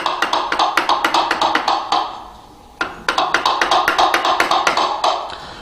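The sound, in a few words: mortise chisel cutting out the centre of a bridle joint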